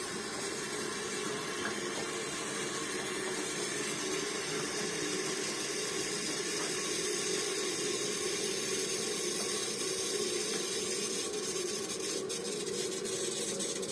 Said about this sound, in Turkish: Buradan suyumuzu veriyoruz.